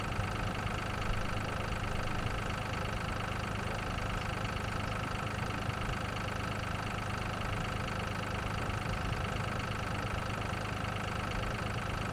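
Tractor engine idling in a farming video game, a steady mid-to-low rumble that holds constant and fairly loud for the whole stretch with no talk over it.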